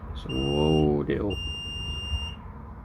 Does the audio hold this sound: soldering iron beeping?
yes